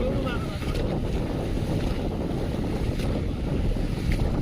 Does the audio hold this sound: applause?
no